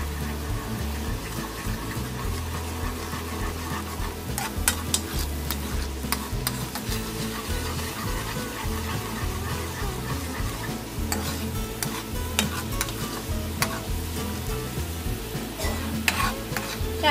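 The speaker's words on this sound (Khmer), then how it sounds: "ឥឡូវខ្ញុំសុំកូរខ្ទិះដូងហ្នឹងឲ្យទុកឲ្យខ្ទិះដូងហ្នឹងវាពុះ" Coconut cream bubbles at a boil in a pot with a continuous, low, churning burble. Repeated scraping and clinking stir strokes run through it, heard close and steady with no voices.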